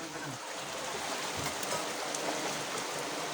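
Steady hiss of heavy rain and rushing floodwater outside a house that has flooded into a room, a constant close wash of water noise with no clear voices.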